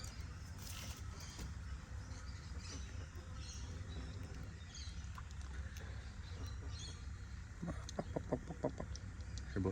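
Chickens cluck and murmur steadily against a busy farmyard background, with a few sharper squawks near the end.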